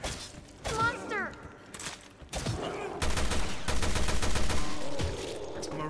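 Rapid gunfire aimed at a zombie in Resident Evil: Revelations 2, building into a sustained, evenly spaced stream of shots that runs under excited voices and a shout.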